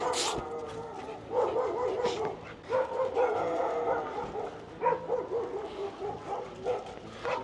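A dog yips and barks in short bursts, mixed with whimpering and excited vocal noises, fairly close.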